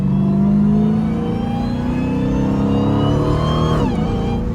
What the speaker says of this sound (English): That upshift, when you ain't flooring it, boy, that upshift be insane